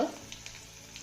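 A tempering of cumin seeds, crushed garlic and asafoetida, with sesame seeds and chopped coriander, fries in oil, a brief soft sizzle with a faint stir after an initial louder splash.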